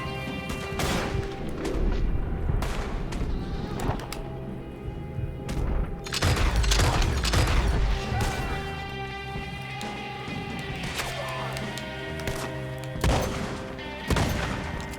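Shotgun blasts in Red Dead Redemption II punch through a steady musical score as repeated sharp booming shots, with a pair of especially heavy reports in the middle amid other scattered gunfire.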